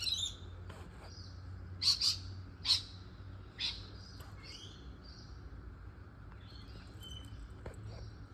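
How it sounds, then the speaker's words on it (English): Small birds singing outdoors, with scattered bright chirps and short tweets, a few louder calls near the two- and three-second marks, over a steady low hum. "The birds are lovely today."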